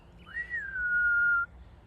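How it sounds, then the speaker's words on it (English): A shepherd blows the sheepdog whistle command for right to a young West Kerry sheepdog in Ireland: one sustained, piercing note that climbs briefly and then glides down slightly, loud and clear with no other sound. "So for left it's like a double whistle"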